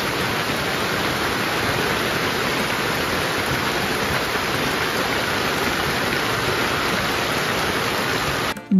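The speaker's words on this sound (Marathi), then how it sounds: "चारही बाजूंनी रांगोळी गणेशाला मानवंदना देतोय तोवर पावसाने हजेरी लावली" Steady rain pours continuously during a Ganesh Chaturthi celebration at a home in Konkan, a dense even hiss that cuts off abruptly at the end.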